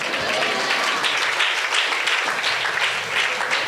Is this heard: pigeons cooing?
no